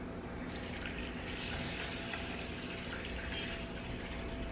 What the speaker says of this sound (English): about 2 cups of water.